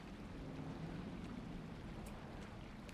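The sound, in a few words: water sound in Pokemon Brilliant Diamond video game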